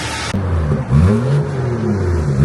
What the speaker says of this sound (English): Yeah, that's that B58. Right, so we got that exhaust open out now.